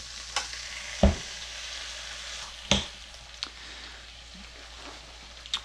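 Leftover chicken wings cooking in a waffle iron give a continuous low sizzle, broken by a few sharp knocks and clatters, one louder pair near the start, with no voices.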